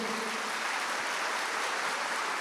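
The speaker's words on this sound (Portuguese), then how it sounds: "Pode aplaudir Jesus." Congregation applause in a Catholic church service, a dense, unbroken rush of many hands clapping at a constant, fairly distant level with no voices on top.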